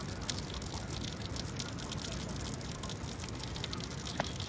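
Water from a house bathroom shower running in a steady, moderate hiss with scattered dripping splashes, fairly close and uninterrupted, with no talk.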